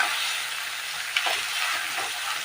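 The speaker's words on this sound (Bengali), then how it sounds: "এখন আমি পটলের সঙ্গে একসাথে মশলাগুলো ভালো করে ভাজা করে নেব" Steady sizzling of spices and pointed gourd frying in a pan, a constant bright hiss with a soft stirring scrape partway through.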